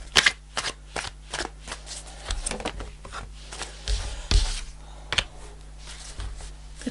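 Tarot cards being shuffled by hand to draw a single clarifier card, a run of close, crisp riffling and slapping bursts with brief pauses between, heard alone with no talking.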